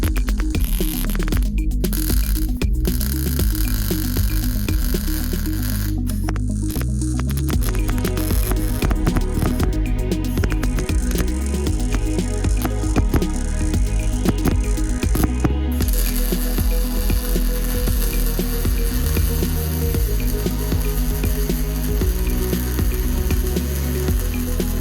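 Stretch tabs are tack welded onto a Motovox minibike frame: loud, steady welding buzz and crackle fills the scene, with a few sharp clanks and brief gaps between tacks.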